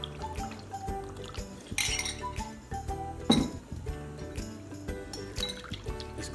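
Flour paste pressed onto a cooking pot of beef nihari: clinking and scraping of a utensil against the metal pot, with a brief louder knock midway, close and fairly quiet, no talking.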